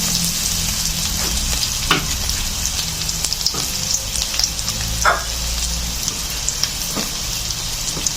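Pork fat fries and sizzles steadily in a pan for kaldereta, a dense crackling hiss with occasional sharper pops and scrapes of stirring.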